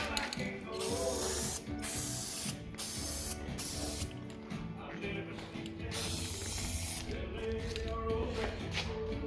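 Spray gun laying a coat of paint on a car, a loud continuous hiss broken by short pauses and mechanical clicks, close and alone.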